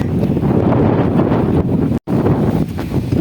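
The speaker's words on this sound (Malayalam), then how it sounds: "വെറും കാറ്റടി തന്നെയാണ് ഇവിടെ" Strong wind at Attappadi buffets the microphone in loud, rough gusts that roar continuously, broken only by a brief dropout.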